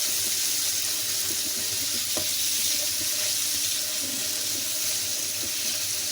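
Boneless chicken breast pieces fry in oil with garlic ginger paste, giving a steady broadband sizzle with scattered small pops and clinks, moderately loud and alone.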